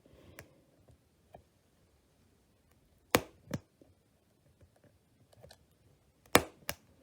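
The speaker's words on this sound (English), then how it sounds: "I'm just going to take an X-Acto knife and I'm going to count 1, 2, 3. I'm going to make my cut right there" An X-Acto knife cuts through a piece from a miniature dollhouse kit, giving a few sharp, isolated clicks and snaps in pairs against near silence.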